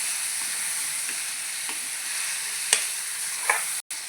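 Tomatoes fry in a pan with a steady, even sizzle while a utensil stirs them, giving a few sharp scraping clicks. The sound cuts out briefly near the end.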